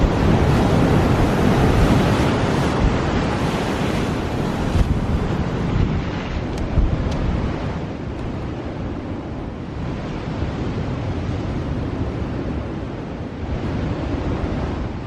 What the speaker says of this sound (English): It's definitely like the windiest location I've ever painted in